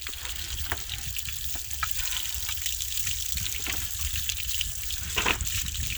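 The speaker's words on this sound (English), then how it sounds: "you're gonna get some water that flows out" Water gushing steadily out of a pool filter after its red handle is opened, a continuous splashing, fizzing flow with a few louder spurts, close and alone.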